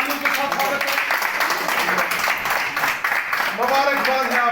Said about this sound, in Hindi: जोरदार तालियों के साथ स्वागत बुनियाद से